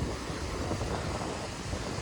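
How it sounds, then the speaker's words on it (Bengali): Strong sea waves roll in at Kargil sea beach in Bakkhali, a loud continuous roar of surf mixed with gusting wind buffeting the microphone. "এখানে ঢেউ তো প্রচণ্ড ঢেউ আছে দেখছি"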